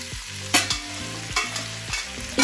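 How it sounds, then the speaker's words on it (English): Cooked spaghettoni stirred through a hot pan for spaghetti alla carbonara, with soft scraping strokes at a steady rhythm over a low background sizzle, close and moderately loud, no voices. "Stir immediately, mix them well for just 1 minute"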